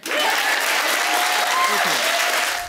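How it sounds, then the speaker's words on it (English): Studio audience applauding on a daytime TV talk show, steady dense clapping throughout with a few voices and a faint tone riding over it, close and loud. "Yeah, you can applaud that."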